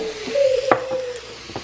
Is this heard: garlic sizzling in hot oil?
yes